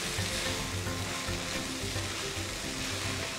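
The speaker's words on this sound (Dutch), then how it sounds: "omdat mijn vlees al voorgekookt is, hoef ik hem dan niet lang of te lang te bakken" Precooked meat fries in a pan with seasoning ingredients, giving a steady, dense sizzle and crackle at moderate level with faint stirring scrapes and no talking.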